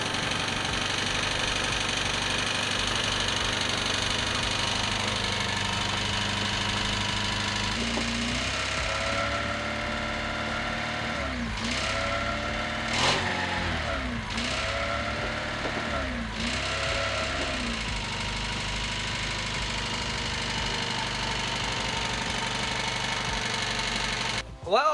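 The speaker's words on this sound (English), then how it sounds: "I'm gonna start it up, see if I can just like drive it." A Honda Civic hatchback engine runs steadily at idle, close and continuous, with rising and falling revs in the middle stretch and a brief clunk at the end; a voice is faintly present at times.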